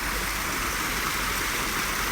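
A small waterfall in a Japanese garden at Futakotamagawa, a steady, close, loud rush of falling water that stays unbroken and without voices.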